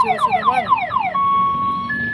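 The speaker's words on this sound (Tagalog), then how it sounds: "May alarm pa yung kanyang kotse rito, no?" A parked Mitsubishi Mirage's car alarm sounds on a street, cycling through a rapid series of rising-falling whoops, then switching to a steady high tone, loud and close with no talk over it.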